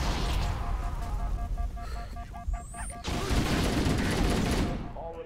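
Grenades explode and gunfire rattles in the Halo: The Master Chief Collection game aboard a doomed ship, a dense loud barrage of booms and rapid shots with a beeping tone partway through, continuing to the end.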